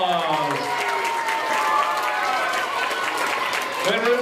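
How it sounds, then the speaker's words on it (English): An audience at an elementary school assembly gives a round of applause, clapping mixed with cheering and excited voices from children throughout, fairly loud and continuous. "Let's give Mr. Billings a big round of applause"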